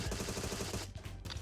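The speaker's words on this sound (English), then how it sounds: "Who's shooting?" Rapid gunfire from the retro-style first-person shooter Agent 64: Spies Never Die, a dense burst of repeated shots under game music that breaks off briefly before firing resumes, loud and close.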